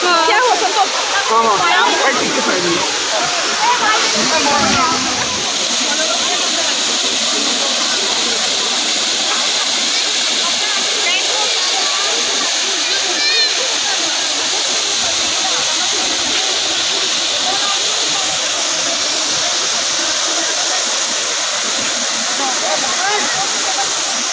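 Uski waterfall in Similipal forest roars as a loud, steady wash of rushing water that runs without a break from start to end, with voices faintly mixed into the spray noise.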